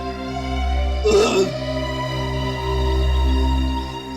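A single short, rough burp bursts out over a steady low hum in a TV crime drama, with quiet surroundings before and after.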